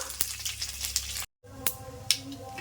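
Dried red chilies and curry leaves fry in ghee, a soft continuous sizzle with sharp crackles and pops, briefly cut to silence midway before the sizzling resumes, close and fairly quiet with no talk.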